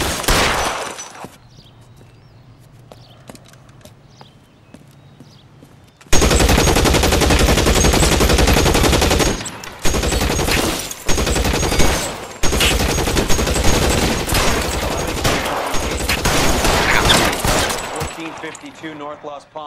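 Gunfire in the L.A. Noire video game, a long sustained burst of rapid automatic shots, loud and dense, with brief gaps between volleys after a quieter stretch at the start.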